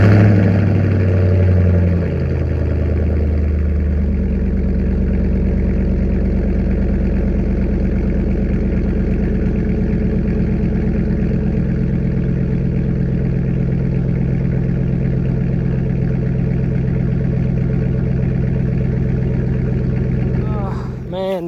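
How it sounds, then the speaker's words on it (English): A 2007 GMC Classic truck with gutted catalytic converters fires up from cold, cranking briefly before settling into a loud, steady, rumbling idle that continues close to the microphone. "I'll give you guys a cold start real quick just to do like a comparison with it"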